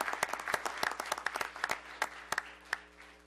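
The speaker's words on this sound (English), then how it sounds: "I think that deserves a round of applause for the youth that have achieved that." Audience applause for young program achievers at a city commission meeting, a steady patter of many hands clapping at moderate distance, with a few louder individual claps standing out.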